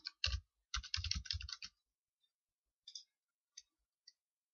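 Close, quiet typing on a computer keyboard: two quick bursts of clustered key clicks, followed by a few isolated taps separated by silence.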